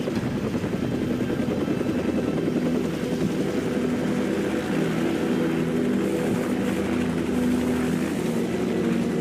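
Helicopter in a Call of Duty game, a steady loud rotor drone and engine roar that fills the whole stretch without letup, close and continuous.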